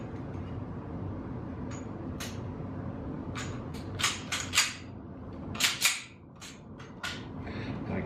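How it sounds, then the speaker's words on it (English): An ambidextrous magazine catch is fitted into a 1911 pistol: scattered sharp metallic clicks and snaps, a few louder ones clustered together, over a quiet room background. "now we're going to go ahead and put in our ambidextrous mag catch"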